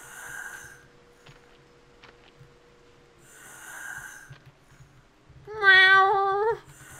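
A cat in the game Eizoku gives one clear, wavering meow near the end, preceded by soft breathy puffs and quiet low rumbles.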